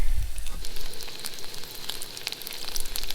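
Onions and potatoes frying in butter in a pan during an outdoor catch-and-cook at a mountain lake, a steady close sizzle with fine crackling pops throughout and no talk.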